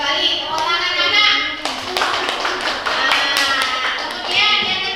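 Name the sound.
children clapping in class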